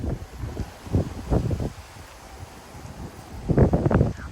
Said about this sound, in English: the wind's going crazy